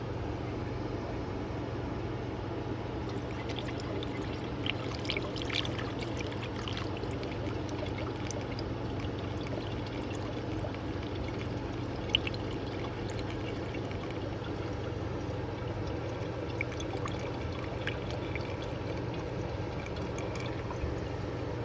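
Liquid holding gold powder is poured slowly from a container during a gold recovery process, a steady soft trickle and stream running continuously at close range with no talk over it.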